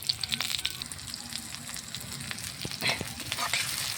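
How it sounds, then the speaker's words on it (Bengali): Green chillies and onion sizzle in mustard oil in a wok, a close steady frying hiss with scattered crackles and spoon scrapes from stirring. "কাঁচা ঝাল কাঁচা পেঁয়াজ দিয়ে দিলাম এগুলো একটু লাল হলে"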